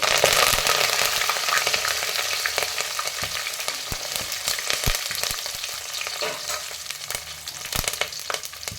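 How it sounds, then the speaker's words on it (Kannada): Curry leaves crackle and sizzle in hot oil, a loud, dense frying hiss with sharp popping spatters throughout, heard alone without talk, while cooking North Karnataka rice-grit upma. "ಕರಿಬೇವು ಹಾಕ್ತಾಯಿದ್ದೀನಿ."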